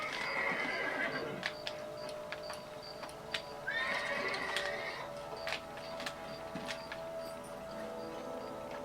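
A horse in the Red Dead Redemption video game whinnies twice over a steady clip-clop of hooves, close and fairly loud, with faint ambient game sound beneath and no talking.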